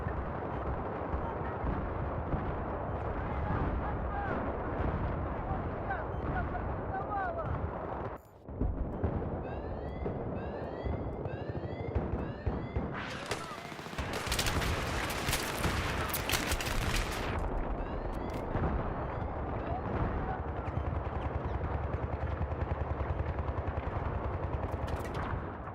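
Battlefield 3 gunfire from an armed vehicle: rapid, dense bursts of heavy automatic fire and booming blasts roll on almost continuously, loud and close, with a brief break and a harsh hissing stretch in the middle.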